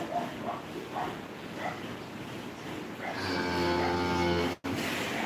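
A cow moos loudly on a farm where cattle are fed cottonseed, a long harmonic low call rising out of a quieter stretch of ambient farm noise and ending abruptly.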